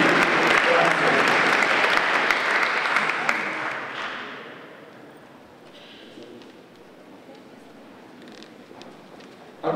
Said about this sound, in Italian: vi chiedo un applauso per i protagonisti del secondo strade di San Pietro